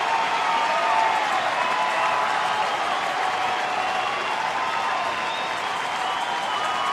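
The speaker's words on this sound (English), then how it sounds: "Crowd getting into it here a bit." A baseball stadium crowd in Atlanta roars with sustained cheering and applause, a dense, steady wash of noise that holds at full volume without letting up.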